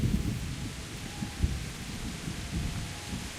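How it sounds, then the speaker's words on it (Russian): Steady rain falls in the medieval game Kingdom Come: Deliverance, a dense broadband hiss with low rumbling, continuous and fairly loud with no talk. "Начался дождь и пошли провалы по FPS"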